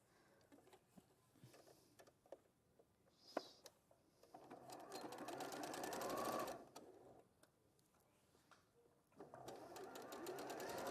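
A sewing machine joins quilt pieces in two sustained runs of rapid stitching, separated by quieter pauses with scattered small ticks and clicks.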